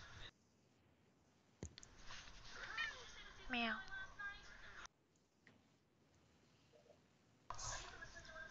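Cat meowing indoors during a live-streamed game session, a few short high meows in a quiet room, with faint clicking and shuffling around them.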